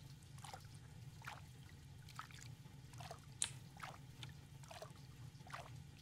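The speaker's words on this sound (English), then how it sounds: "That's a good water sound," Water gently sloshing and dripping in an outdoor hot tub, soft intermittent splashes every half second or so over a low steady hum, quiet and close.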